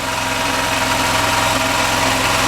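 A Hollingsworth air compressor engine fitted with a new muffler runs steadily at idle, a close, continuous low rhythmic chugging with no voices.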